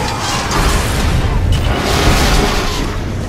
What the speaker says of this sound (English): Possible laboratory break-in confirmed by big explosion.